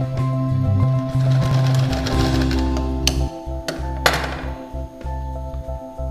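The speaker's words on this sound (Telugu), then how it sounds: "ఇక్కడ అంగే కుట్టు వేద్దాం." Sewing machine stitching a seam into fabric, a steady mechanical whirring and clatter for a few seconds followed by several sharp clunks and thumps as it slows and stops.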